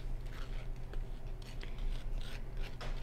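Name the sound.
scraping out the inside of a sugar skull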